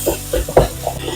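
Tomatoes frying in a pan for beef roast are stirred, producing a few close scraping strokes over a soft sizzle, with brief clanks of the spoon against the pan.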